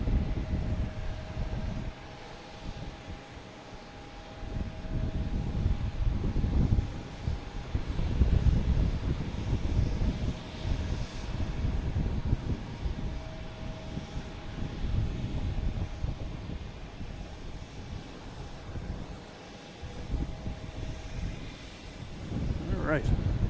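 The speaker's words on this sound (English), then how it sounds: "JetBlue coming in from Nantucket, which is like right over there somewhere" A JetBlue Embraer E190 airliner flying in from Nantucket to Boston Logan rumbles overhead, its engine roar swelling and fading in waves over a long stretch, mostly steady and moderately loud.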